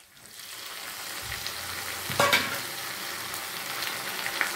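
Garlic paste and finely chopped tomato sizzle steadily in a pan over onions, a continuous close frying hiss with a brief stirring clatter partway through.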